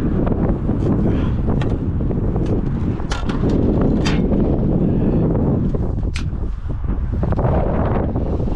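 Wind buffets the microphone outdoors beside a truck trailer in a constant roaring rush, gusting slightly throughout. No one speaks.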